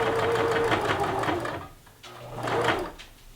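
Baby Lock sewing machine stitching a fabric face mask: a steady, loud whirring run of rapid needle strokes, a brief stop, then another shorter burst of stitching close by.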